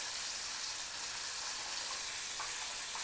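Chilapi fish frying in hot oil in a pan, a steady, dense close sizzle that holds constant throughout with no pauses.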